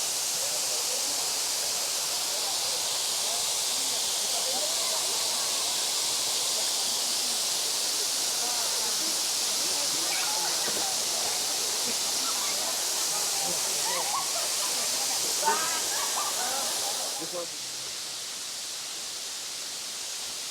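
Erawan Waterfall in Kanchanaburi National Park, Thailand: a steady broad rush of flowing water fills the scene, with faint voices of people nearby underneath.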